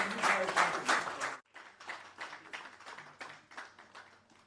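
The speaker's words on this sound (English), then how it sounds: "a round of applause, please. A louder applause." A crowd applauding, loud at first, then breaking off briefly and resuming as softer, scattered clapping that gradually fades.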